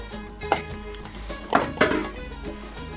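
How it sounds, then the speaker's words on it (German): A spoon scrapes lime pulp inside a pot, giving a few light metallic clinks and scrapes over a faint background hum. "Und das Fruchtfleisch hier ruhig ein bisschen mit dem Löffel noch nach rausholen."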